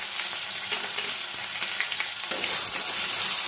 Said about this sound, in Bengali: খুব ভালো করে আদা কাঁচা লঙ্কাটা আমি ভেজে নেব যতক্ষণ না এর থেকে কাঁচা গন্ধ চলে যায়।